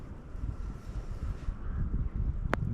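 Wind blowing outdoors by the water while pike fishing with a telescopic spinning rod, a low, gusty rumble buffeting the microphone, with a brief sharp knock near the end.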